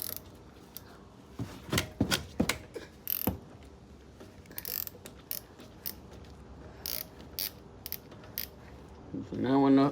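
A Snap-on ratchet with an E12 socket loosens a bolt on the rear brake of a 2020 Mercedes GLB, making intermittent bursts of close metallic clicking in a quiet garage, with a louder mechanical rattle at the end.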